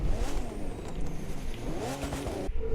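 A Mitsubishi 3000GT VR-4 engine in the video game The Crew 2 drones and revs loudly and steadily throughout, close and continuous, with rising and falling pitch near the end.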